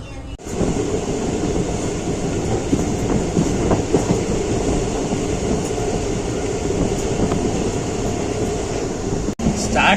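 A heritage steam train with ICF passenger coaches runs on the line out of Ahmedabad, giving a steady, loud, close rolling rumble with faint rail clatter that holds for the whole stretch and dips briefly near the end.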